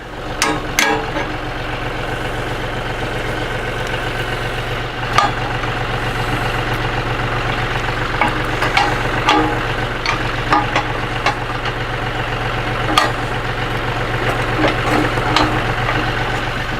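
A tractor fitted with a 3 point blade pushes dirt beside a driveway, its engine chugging steadily and loud throughout, with occasional knocks and clanks over the constant low rumble and no voices.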